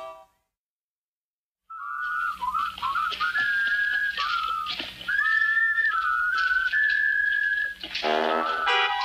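Sustained melodic whistling of a tune from a Lucky Luke cartoon, loud and continuous with held notes and short slides between phrases, ending with a brief different tonal flourish.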